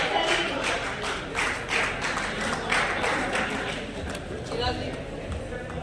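An audience claps steadily for a guest at a national voter awareness festival held at an Ayurvedic college in Udaipur, Rajasthan, a continuous, moderately loud patter of many hands mixed with someone speaking over it.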